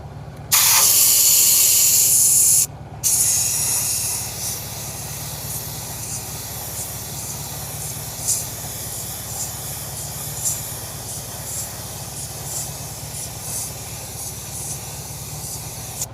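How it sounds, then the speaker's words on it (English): A close, steady hiss of black spray paint bursts on loudly, pauses briefly, then restarts and fades to a lower, continuous hiss as it coats a Porsche wheel rim under repair. "Let's go ahead and shoot the black paint on here."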